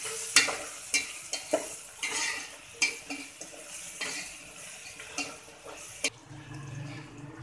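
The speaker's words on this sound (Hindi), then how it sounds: "अब इसको अच्छी तरह मिक्स करती हूँ।" Masala with turmeric, red chili powder and whole coriander frying in a pan for bondi salan while being stirred, soft sizzling broken by repeated spoon clinks and scrapes against the pan, close with no voices.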